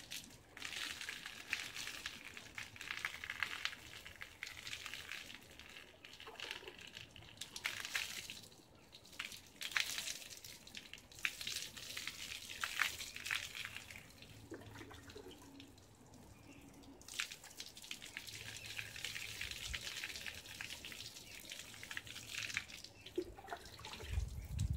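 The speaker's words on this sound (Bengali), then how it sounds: "এবারে ধুয়ে দেবো, এবারে খুব সুন্দর করে ধুয়ে দিতে হবে মাথা।" Water runs and splashes softly while rinsing shampoo out of a child's hair during home hair care, a quiet, steady wash of trickling and dripping that continues throughout.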